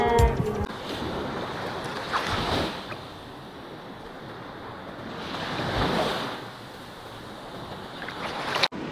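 Ocean waves rolling onto Waikiki beach in Hawaii, two surges of surf swelling and receding over steady wind noise on the microphone, close and fairly loud with no talk.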